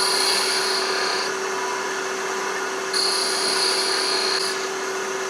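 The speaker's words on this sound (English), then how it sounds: "I think I'm going to use this small 1/4 inch detail gouge" A wooden handle spinning on a lathe while a small 1/4 inch detail gouge cuts it, a loud, steady motor drone with a continuous scraping hiss, close and alone.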